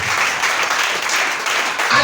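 A church congregation applauding in response to a pastor, dense continuous clapping and cheering from a crowd throughout, with some voices mixed in.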